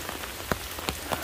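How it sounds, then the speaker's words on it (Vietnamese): Heavy rain pouring down at night beside old tombs, a dense hiss of drops with a few sharper splashes standing out, loud and continuous with no voices. "thì mưa kéo tới rất là nhiều luôn"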